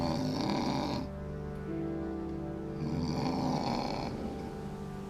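People sleeping in a homeless shelter dormitory snore with deep, rumbling breaths in two long, steady waves, fairly close and with nothing else in the room.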